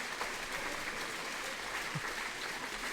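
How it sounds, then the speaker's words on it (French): Sustained applause from a handball crowd and the women players at the close of a French women's national league match, dense and steady throughout with no voices standing out. "on se termine tout ça sur les applaudissements des joueuses"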